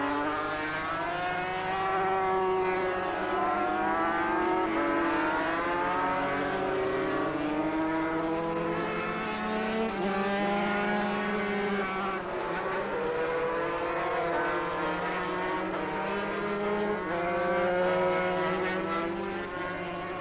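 500cc racing motorcycles at Oran Park circuit in 1985, engines screaming and shifting pitch as bikes rise and fall through the gears, loud and continuous over twenty seconds with no talk.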